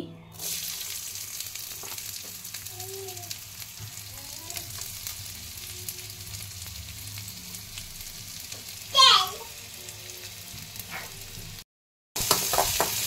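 Chopped onion fries in a little oil, a steady close sizzle running throughout with occasional stirring and a brief louder scrape near the end.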